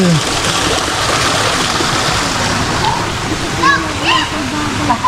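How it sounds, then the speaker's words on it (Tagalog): Strong spring water rushes steadily and loudly close by in Infanta, Quezon, with people chatting over it and brief higher voice sounds toward the end. "ayun oh laka ng tubig eh"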